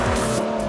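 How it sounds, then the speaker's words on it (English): A Lotus Exige S Roadster's V6 engine sings at speed on an open road, a loud sustained rasping note with a brief sweep, heard close and without talk. "the V6 here is really singing its heart out"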